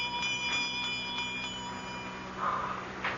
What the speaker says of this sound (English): I'm trying to see where that bell came from.